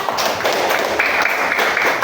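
A class of pupils clapping their hands together in a classroom during a lesson, a brisk burst of fairly loud, slightly uneven claps that carries on throughout without any talk.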